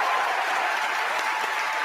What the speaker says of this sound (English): And then he claps.